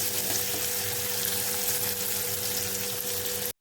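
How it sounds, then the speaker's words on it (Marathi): Finely chopped tomato frying in oil for a Konkan-style cashew curry, a loud, dense and continuous sizzle close up that cuts off abruptly at the end, with no voices. "टोमॅटो थोडा मऊ होईपर्यंत आपल्याला तेलामध्ये परतून घ्यायचा आहे."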